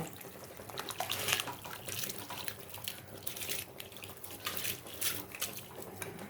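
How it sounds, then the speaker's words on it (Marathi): Washed rice goes into a pot of boiling water for biryani, a faint watery sloshing and bubbling with soft splashes in uneven bursts, heard alone. "तर इथे आपण हे धुवून घेतलेले जे तांदूळ आहेत ते यामध्ये घालणार आहे."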